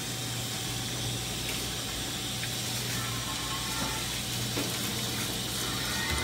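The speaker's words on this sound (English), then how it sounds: "Rinse off each piece of salmon." Running water from a tap pours steadily over pieces of salmon as the salt is rinsed off, a continuous close hiss and splash with faint handling sounds and no speech.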